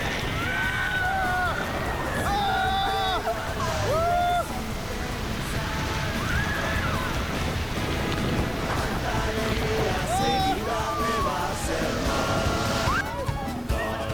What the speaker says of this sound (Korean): 잠시 멈춰섰던 배가 사정없이 악마의 목구멍으로 돌진한다.